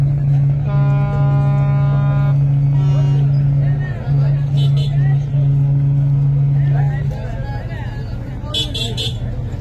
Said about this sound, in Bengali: বেশ ভালো পরিমাণ গতি দিয়েই কিন্তু লঞ্চটি সামনের দিকে চালানো হচ্ছে।